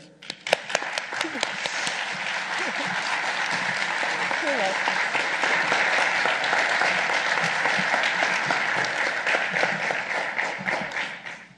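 An audience at a school board meeting applauds to welcome a new superintendent, steady clapping from a room full of people that swells and holds for over ten seconds before tapering, with scattered voices mixed in.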